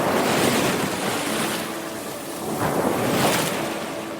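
Fast-moving ocean water rushes in and crashes against jagged rocks, two big surging swells of roaring surf close by, heavy and continuous with no voices.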